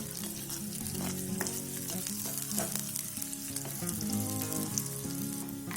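Curry leaves and cinnamon bark fry in hot oil for a Sri Lankan fish curry, making a loud, dense, close crackling sizzle that runs without pause.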